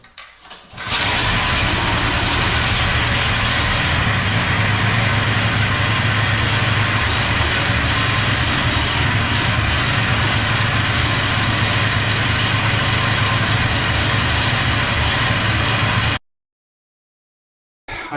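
A homemade hot rod kart engine catches after a brief crank and settles into a loud, steady idle close by, running unbroken for about fifteen seconds before abruptly cutting out.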